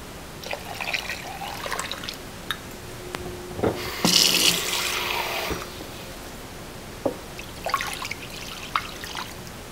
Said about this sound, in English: And then just put it in a pot like this, and we need to cover it with water.